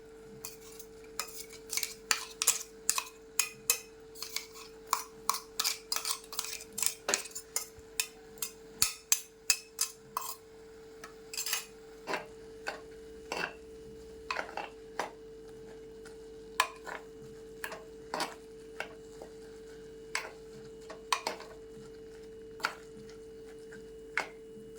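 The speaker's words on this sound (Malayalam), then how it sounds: "എന്നിട്ട് നമുക്ക് അരപ്പ് ചേർക്കാം." A spoon scrapes and clacks in a pan as ground coconut paste is stirred into spinach aviyal, quick rhythmic strikes at first, then slower, sparser taps over a steady low hum.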